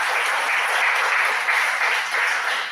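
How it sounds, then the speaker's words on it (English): Audience at a homeopathy seminar applauds Dr. Sahadeo Wankhade with dense, steady clapping from many hands, loud and sustained throughout with no voices over it. "please clap for him"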